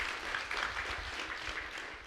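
Audience applause at a cloud data architecture talk, a steady wash of clapping from a seated crowd, fairly soft and continuous for a couple of seconds.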